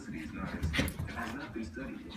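A puppy whimpers and yips in short, high, whiny bursts close by, with someone talking over it.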